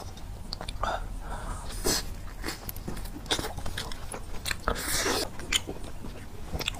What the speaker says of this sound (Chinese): 说实话，我还真是第一次吃鸡架。